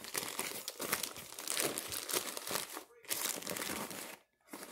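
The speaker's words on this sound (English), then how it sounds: "Then I just fold the bag down." A plastic bag used as a balloon sandbag weight crinkles loudly and densely as it is folded down, close up, in continuous crackling bursts with two brief pauses near the end.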